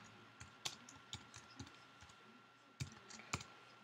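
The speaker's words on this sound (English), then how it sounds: "if you hear any clicking, it's me clicking on the keyboard on the iPad" Soft, irregular clicks from taps on an iPad's on-screen keyboard, a handful of sharp, faint keystrokes scattered with pauses in a quiet room.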